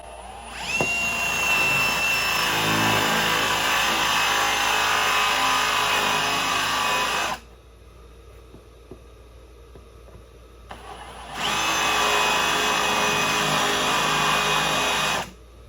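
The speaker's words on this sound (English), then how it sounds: "I'll still have a little hole to line up the next piece I got to drill through." Power drill boring through wood covered with painter's tape, running loud and close in a long steady burst, pausing for a few seconds of near silence, then starting again for another sustained run.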